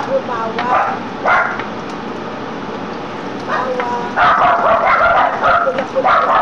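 Dogs bark and yip in short bursts from a distance, growing louder and more frantic toward the end, heard over kitchen sizzling and a voice talking.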